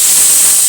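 Soya chunks (meal maker) hit a hot pan of browned ginger garlic paste for a fenugreek pulao, letting out a loud, close, unbroken hiss of sizzling for a brief moment.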